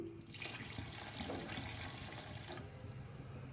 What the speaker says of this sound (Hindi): तो हाफ कप के करीब मैं इसके अंदर डाल दूंगा फ्रेश दूध